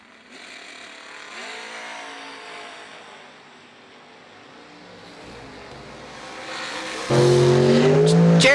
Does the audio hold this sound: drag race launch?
yes